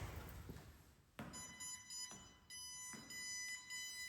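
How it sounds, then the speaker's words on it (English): A smart safety band's fall-alert alarm beeps in a repeating pulsed pattern, high-pitched electronic tones sounding about four times in steady rhythm, faint and close with room noise and no talk. "So as you can see, the beep goes on and the doctor is informed"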